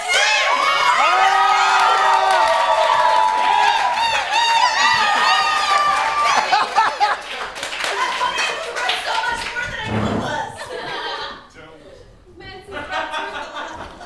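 A live studio audience claps and cheers loudly for a team, with children's shouts over dense applause that fades after about ten seconds, and speech follows.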